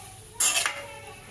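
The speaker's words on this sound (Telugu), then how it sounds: "మూత పెట్టి ఉడికిస్తాం." A metal lid set onto a pot of simmering chikkudukaya (broad bean) curry, giving one short, bright clatter that rings briefly and fades, close by in a quiet home kitchen.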